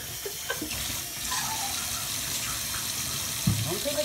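Steady tap water runs into a lean-back salon sink during a wash of long-matted dreadlocks, a continuous close hiss with a brief louder gush near the end.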